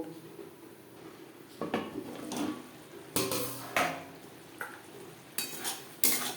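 A lid set down on a pan of simmering rui fish curry with spices over a low gas flame, giving a few sharp metallic clanks and clatters close by, spaced over several seconds against quiet kitchen background.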